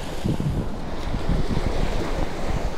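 Steady cold wind buffeting the microphone on a boat near the shore at Teluk Kerang, Pontian, Johor, with waves washing beneath, a continuous loud broadband rush without any voices.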